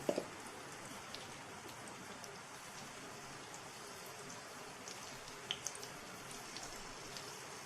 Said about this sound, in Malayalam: കുറച്ച് ജീരകം എന്തായാലും ഈ ദാൽ കറിയിൽ പൊട്ടിക്കണം കേട്ടോ